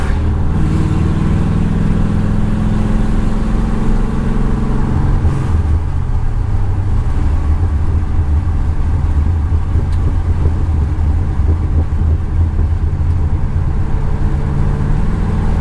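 A restored 1964 Ford Galaxie 500 V8 fitted with headers idles and runs steadily, a deep rumbling low drone with slight shifts in pitch, close and continuous with a little wind noise and no talk.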